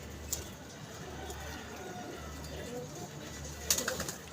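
Pigeons at a pigeon club coo softly in the background, low and faint under a steady ambient hum, with a couple of brief sharp sounds nearby.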